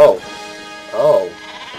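Two short sheep bleats from the video game Worms: Reloaded, each a wavering nasal cry about a second apart, loud and close against a quiet background.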